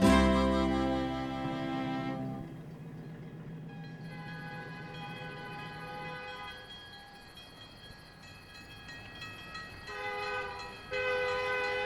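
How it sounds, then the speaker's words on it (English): A Via Rail passenger train from Windsor rolls into Chatham with a long, loud blaring horn, the engine rumbling and rails clattering as it approaches and passes. "The arrival of the Via train from Windsor is a reminder of the importance of rail transport"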